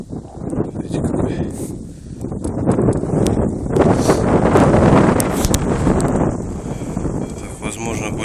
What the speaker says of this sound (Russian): Вот срывается ветер иногда.